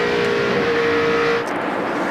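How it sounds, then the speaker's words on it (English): A NASCAR race car at speed on the track, a steady loud engine drone with a held pitch that shifts slightly as it passes. "That's a good handling race car right there."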